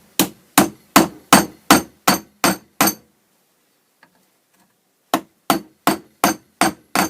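Knife handle pins being hammered on the anvil of a bench vise: a steady series of sharp metallic taps, about seven in a row, a pause with one faint tick, then another even run of taps, loud and close with no talk.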